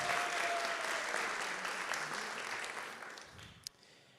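An audience at a hackathon's final presentations applauds steadily, the clapping fading gradually over a few seconds with one sharp louder clap near the end.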